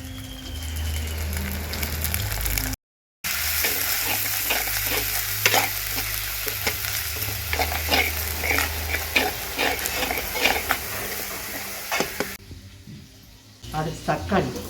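Onions with salt and chili powder fry and crackle in a pan, a ladle scraping and stirring them steadily throughout, with a brief dropout and a quieter stretch near the end.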